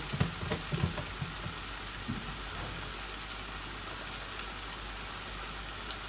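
Grated onions, cooked until reddish-brown, fry in a pan with a steady close sizzle and a few light stirring clicks at the start. No voices are heard.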